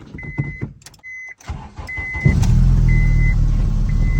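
A Honda Civic ES1 with a swapped K20 engine, sitting on dashboard warning chimes, cranks briefly and then catches, settling into a loud, steady idle while the repeating chime continues.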